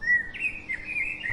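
Birds chirp and call over a wetland beel at Bilchandok, Pabna in the rainy season, a steady stream of bright, close tweets with overlapping songs and no talk.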